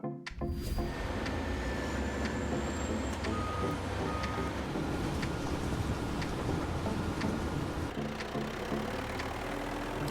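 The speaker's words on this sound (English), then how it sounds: "The Liebherr T282C Ultra Class trucks offered by the National Group represent a new era of mining haulage vehicles" Liebherr T282C ultra class mining haul truck working at a mining site, a loud continuous engine roar with repeated reversing beeps and hissing air brakes.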